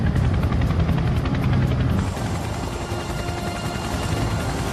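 A British Air Force Chinook helicopter flies with a loud, dense, continuous rotor roar and a rapid chopping pulse, steady throughout with no voices.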